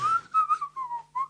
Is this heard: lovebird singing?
no